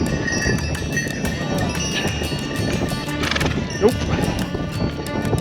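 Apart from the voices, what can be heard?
horse walking on trail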